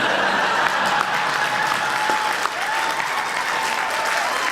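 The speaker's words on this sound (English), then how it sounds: "please give yourselves a round of applause" Audience applause at a fan convention, loud and sustained clapping from a large crowd with a few faint tones and a brief bump partway through.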